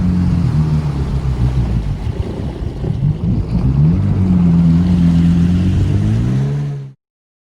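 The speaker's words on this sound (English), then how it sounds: "Now we're at the Jetski." A jet ski engine runs steadily on a lake, a loud, close droning hum with shifting revs and water splash, cutting off abruptly near the end.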